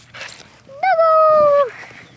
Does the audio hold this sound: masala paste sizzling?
no